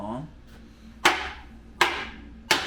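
A hammer strikes an exhaust pipe being fitted to a Land Rover Defender L663 V8 quad exhaust, giving three sharp metallic taps at uneven intervals, close and clear, with a brief voice at the start.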